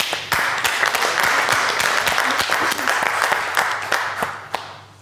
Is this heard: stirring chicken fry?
no